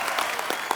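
Studio audience at a comedy talk show bursting into dense, steady applause that stays loud through the whole moment as a guest singer is welcomed onto the stage.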